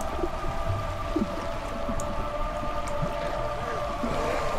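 Continuous bubbling, gurgling water ambience in the horror video game Outlast 2, a steady watery drone with low murky churning and scattered bubbly pops, held at an even level throughout.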